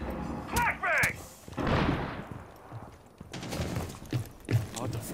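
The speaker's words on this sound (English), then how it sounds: "Flashbang!" A flashbang grenade goes off in Rainbow Six Siege as a single loud, broad burst at close range, followed by scattered gunfire and in-game clatter.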